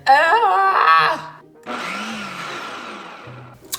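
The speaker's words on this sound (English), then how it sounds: "I just got this blender literally last week." A newly bought countertop blender whirs at a high pitch as it blends carrots, then drops to a lower, rougher grinding drone, loud and close, with no talking over it.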